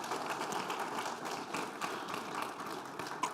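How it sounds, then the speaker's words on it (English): An audience at a circular economy forum gives a government minister a steady round of applause, many hands clapping continuously at moderate volume from start to finish. "Let's give her a final round of applause, please."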